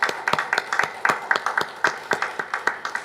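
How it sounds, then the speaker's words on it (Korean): A small congregation at a Korean-language church anniversary service claps in thanks, a sparse, fairly quiet patter of distinct hand claps at a steady rhythm, each clap standing apart. "감사의 박수 보내드립니다"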